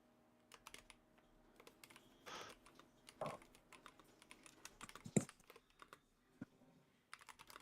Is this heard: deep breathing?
no